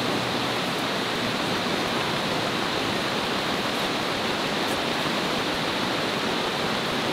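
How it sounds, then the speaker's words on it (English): A river rushes loudly beside a rainy campsite, a steady broad roar of water filling the whole stretch without a break. "it's the river is really loud."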